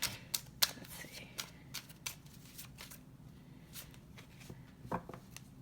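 A deck of tarot cards is shuffled by hand in quiet, irregular bursts of riffling and flicking, close up, with no talking.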